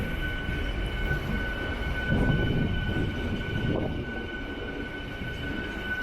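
The Chennai Central–Palakkad Superfast Express rumbles steadily past nearby with low, continuous rolling noise, swelling briefly midway before easing off; no voices.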